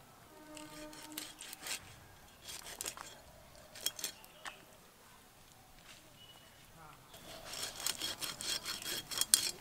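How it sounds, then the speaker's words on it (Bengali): A kitchen knife cutting the gills off a fish, producing short scraping, rasping strokes close by with pauses between them, while a person talks over the cutting. "আর এই মাছের কানকোগুলো কেটে বাদ দিয়ে দেব"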